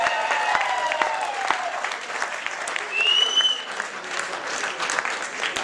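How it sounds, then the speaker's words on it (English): Audience applause at a roast fills the room with dense clapping for several seconds, loud and steady, with a voice briefly heard over it before it thins out. "Big round of applause for them."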